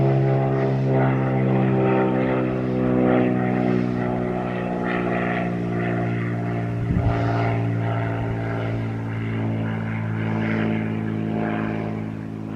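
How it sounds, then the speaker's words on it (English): A propeller aeroplane drones steadily overhead above the countryside, a constant low engine hum that holds at a moderate level throughout, with no talking. "there's an aeroplane."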